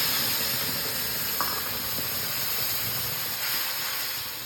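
Potatoes and soya chunks frying in a pan with turmeric and salt give a loud, steady hiss and sizzle throughout, with faint scattered clicks underneath.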